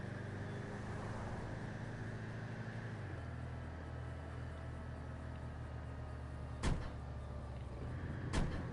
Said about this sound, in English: I finally realized what that banging sound is every time I do taxi work. It's the fucking door they don't close ever.